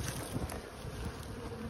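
Bees buzz around an open hive of eight or nine frames, a soft steady insect drone heard close and alone without talk.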